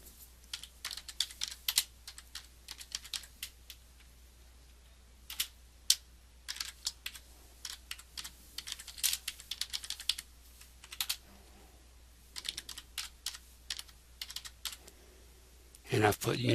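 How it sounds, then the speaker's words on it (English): Bursts of typing on a computer keyboard as search terms are entered into a database, with clusters of rapid key clicks separated by short pauses, close and fairly quiet, ending in a louder clatter. "and type some search terms in."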